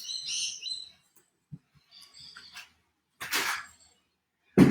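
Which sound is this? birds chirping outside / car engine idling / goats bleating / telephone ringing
birds chirping outside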